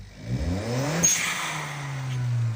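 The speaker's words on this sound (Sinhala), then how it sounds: "ඔය වගේ ශබ්දයක් නේ බ්ලෝ ඔෆ් වැල් එකේ වායුව පිටත් කරලා දෙන්නේ" A turbocharged car engine revs up, then its blow-off valve vents air in a brief sharp whoosh with a thin high whistle before the engine tone settles into a steady hum.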